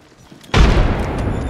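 A frag grenade detonates in the shooter game Apex Legends, a sudden loud, close boom that breaks from quiet and rolls into a sustained rumbling blast.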